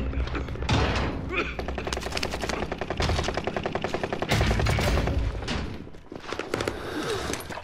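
Gunfire in the Warzone Rebirth battle royale game: dense rapid automatic bursts and repeated shots fill the whole stretch, loud and close, with brief pauses between volleys.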